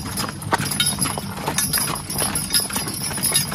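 A horse's hooves clip-clop steadily as it pulls a driven load up a hill, hoofbeats near and uneven against a constant rumble of wheels and ground noise.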